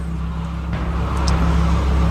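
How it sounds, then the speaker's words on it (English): Steady engine drone of a 2020 Lamborghini Huracan LP640-4 Evo Spyder heard from inside while driving, a constant low hum under road noise that swells slightly toward the end, with no voices. "When I accelerate, wow. Sounds great."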